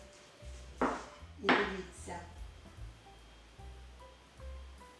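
Grated zucchini and potato, squeezed dry, dropped into a mixing bowl, giving a couple of soft thuds and clinks against the bowl over a steady background hum.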